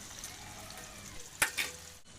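Fish pieces for a crispy fish fry go one by one into hot oil, a steady close sizzle broken by two sharp, louder hissing bursts as pieces hit the oil.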